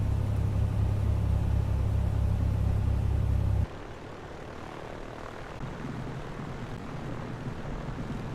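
A simulated airliner touches down at Kiruna airport in the Prepar3D v4 flight simulator, with a loud steady engine roar for several seconds that drops abruptly to a lower rumbling rollout.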